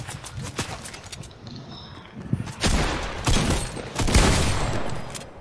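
Bursts of Fortnite gunfire crackle through a game match, scattered shots at first, then denser, louder volleys of rapid fire in the second half, with no talk over them.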